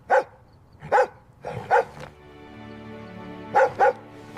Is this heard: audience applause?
no